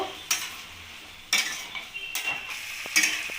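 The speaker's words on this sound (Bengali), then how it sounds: "এবার ভালোভাবে নাড়িয়ে নেব" A spoon scrapes through cauliflower rezala with a cashew, poppy-seed and milk paste in a kadai, four separate stirring scrapes with a faint sizzle between them, close up and fairly quiet, with no talking.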